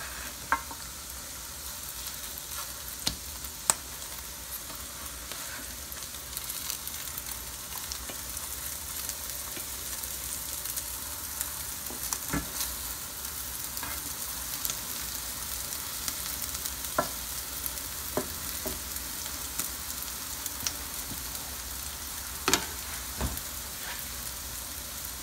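Steady, close sizzling of fish cakes frying in a pan, with occasional sharp crackles and pops over a constant hiss, and no one speaking.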